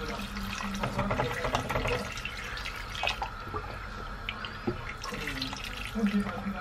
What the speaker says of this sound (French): Donc j'ajoute mon eau